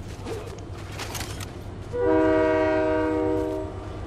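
A train in Fortnite rumbles along with clattering wheels, then sounds a loud sustained multi-tone horn blast that fades after about two seconds.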